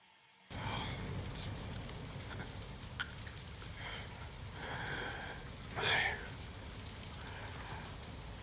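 Rain falls steadily in a fantasy drama TV episode, a constant soft patter and hiss that starts abruptly after a brief silence, with a few faint breaths and a short louder swell near the end.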